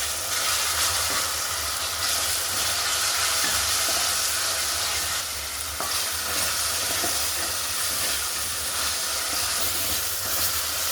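Chicken masala curry with a spoonful of paste sizzling and frying in a pan, a close, continuous hiss and crackle with scraping stir strokes throughout, no voices.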